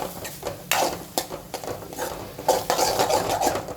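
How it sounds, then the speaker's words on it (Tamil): A spatula scrapes and clatters in a pan as masala is sautéed with green field beans (mochai), giving irregular close scrapes and knocks over a light sizzle. "இந்த இடத்துல மசாலா போட்டுட்டு இந்த பச்சை வாசனை போக நல்லா வதக்கி விடணும்"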